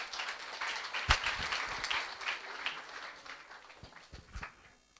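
An audience applauds a startup presenter at a pitch event, with scattered claps and a few louder strikes over a steady patter that gradually thins toward the end.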